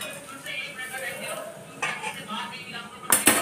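A crispy roti sandwich lands on a plate with a couple of sharp clinks of cutlery and dishware near the end, after a stretch of quiet kitchen rustling and soft clatter.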